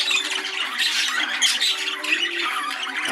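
A male budgerigar in a breeding birdroom gives loud, close, continuous raspy squawks and chattering calls.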